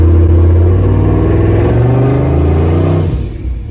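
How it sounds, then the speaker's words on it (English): A turbocharged GMC truck launches hard, its engine revving loud and close with rising harmonic drone as it accelerates, then easing off near the end. "so I'm over here instructing Taylor how to do a launch"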